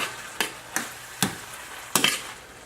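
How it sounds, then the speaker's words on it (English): Tomato basil sauce being stirred in a skillet: four distinct scraping strokes spaced about half a second apart, with a faint sizzle underneath, quiet and close, no talking. "Stir my sauce in."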